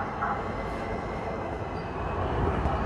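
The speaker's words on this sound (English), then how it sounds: "So this is the tram going by, which some people take here in San Diego." A San Diego tram passing by outdoors makes a steady broadband rumble and rail hiss that holds at a moderate level throughout, with no talk.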